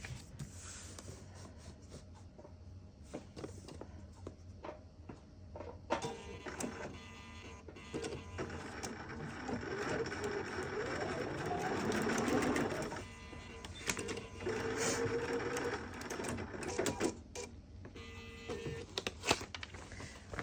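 A sewing machine stitches across a fabric candy cane stocking, its rapid mechanical whir running in bursts that swell through the middle and stop and start near the end, close and clear with no talking.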